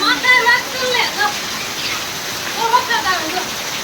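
Rain pours steadily outdoors on the seventh-day festival, a dense, even hiss close by, while people talk over it throughout.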